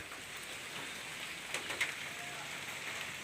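Rain falls in a steady, faint patter on outdoor surfaces, an even wash of drops heard from some distance with no voices.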